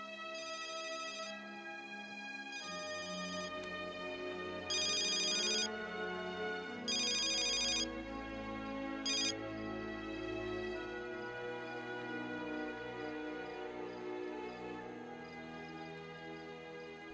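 A mobile phone ringtone rings steadily on its own as a repeating electronic melody with bright bursts, played over a continuous low background.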